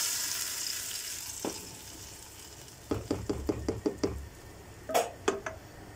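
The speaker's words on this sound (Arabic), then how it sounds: "خلاص بقى هنزل كده بعصير الطماطم" Tomato juice hits onions frying in a pan, a steady sizzle with a quick run of stirring knocks and utensil clinks against the pot.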